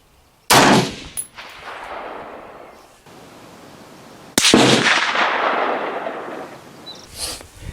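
Two sharp rifle shots at an outdoor range, from a Lencac SC 1903A4 and a Noveske AR, each a loud, close crack followed by a long rolling echo, with a faint metallic clink between them.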